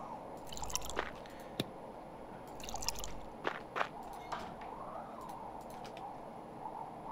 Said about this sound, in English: Let's get some water before we forget to water our plants.